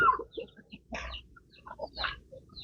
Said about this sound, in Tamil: இங்கே ஒரு சேவல் இருக்குங்க இது வந்து ஒரு சேவல்